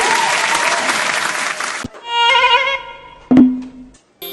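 Clapping at a lively Ganesh Puja celebration, a dense burst of hand claps for nearly two seconds that cuts off abruptly, followed by singing and other sounds.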